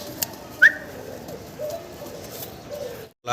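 Grizzle racer pigeons coo softly in a pigeon market setting, low murmuring calls repeating over a quiet background with a few faint chirps.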